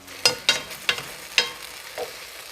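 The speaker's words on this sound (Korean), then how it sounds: "자, 이제 소스를 부어줄게요" Sauce hits a hot pan of braised chicken drumsticks in a few quick, crackling bursts of sizzle, fairly close and fading between splashes.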